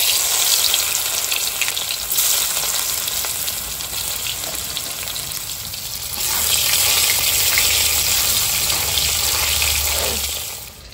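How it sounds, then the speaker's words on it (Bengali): Potatoes and black cumin (nigella seeds) drop into hot oil and fry with a loud, steady, close sizzling hiss that swells around the middle and tapers off at the end, with no voices. "তেল দিলাম, কালো জিরা, আলুগুলো আমি দিয়ে দিচ্ছি।"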